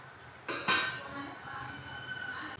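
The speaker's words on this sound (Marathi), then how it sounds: "आणि आता मी ह्याच्यावर झाकण ठेवणार" A metal lid set down onto a cooking pot of vegetables in a home kitchen, two quick clanks close by followed by a faint hiss and light rattle.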